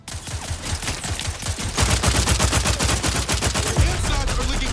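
Rapid video game gunfire crackles in dense, continuous bursts throughout, loud and close, with no voices over it.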